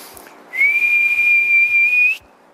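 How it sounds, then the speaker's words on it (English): A person with no teeth whistles a single steady high note for about two seconds, clear and close, preceded by faint rustling. "I can't whistle, I've got no teeth."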